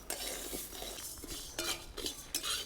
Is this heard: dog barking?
no